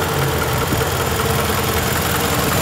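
A 2003 Toyota Camry engine idles steadily and evenly, a close, continuous low hum with no breaks or voices over it.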